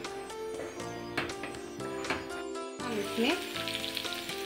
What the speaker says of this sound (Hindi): अब इसमें ये सारे सूखे मसाले भी मिला दीजिए और इसे आपस में मिक्स करके इसे लाल होने तक भून लीजिए।